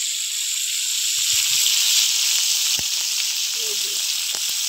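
Kan magur catfish frying in hot oil, a loud continuous high hiss with a few sharp pops and spatters, close up, with brief faint sounds beneath.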